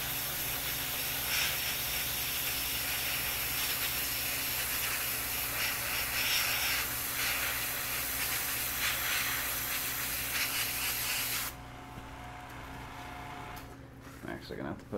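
Spray paint hisses in a long continuous burst while a quick coat goes over a model, loud and close, then cuts off near the end, with a voice talking over it.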